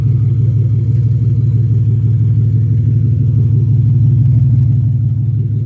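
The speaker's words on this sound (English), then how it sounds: "she's been idling for about 15 minutes already" Acura Legend six-speed with an open OBX race header, warmed up and idling: a loud, steady low rumble with an even pulsing beat, close to the exhaust, with no talking.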